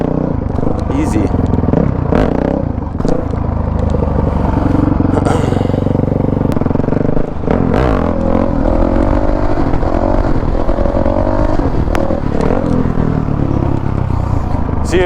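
A supermoto dirt bike engine revs loud and close while the clutch is slipped for a wheelie on a closed course, a steady roar that rises and falls with clattering surges throughout.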